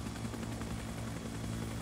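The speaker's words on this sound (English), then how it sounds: "Why don't we go into the other helicopter then? Oh, he's taking off." A helicopter takes off in a video game, its rotor and engine making a steady, loud, droning whir with a low throbbing hum that holds evenly throughout, with no talking.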